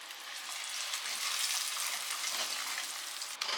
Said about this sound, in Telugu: పెసరపప్పు బాగా మిక్స్ చేసి ఆయిల్ సపరేట్ అయ్యేంత వరకు మనం ఈ పెసరపప్పుని ఈ ఆయిల్లో ఫ్రై చేసుకోవాలండి